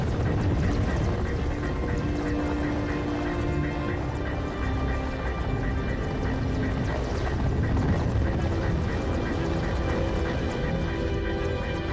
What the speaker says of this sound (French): une petite tempête de sable provoquée par l'hélicoptère tant attendu.